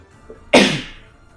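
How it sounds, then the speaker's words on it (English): A single sharp sneeze bursts out after a faint breath, then fades quickly into quiet. "Double sneeze."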